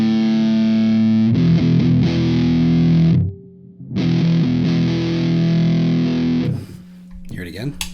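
Electric guitar runs through a fuzz pedal with a toggle switch, playing two loud, saturated passages split by a short break, first with the switch down and then with it up, and a few faint handling noises at the end.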